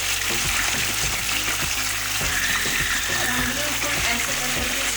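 Soaked lentils for falafel fry in hot oil in a strainer, giving a continuous bubbling sizzle close by, with faint knocks and stirring noises running through it.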